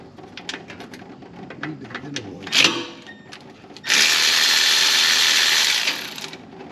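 Ratchet wrench clicking quickly while removing transmission pan bolts on a 2006 Chevy Express 2500 van, a run of crisp close clicks followed by a louder sustained hiss-like rush near the end.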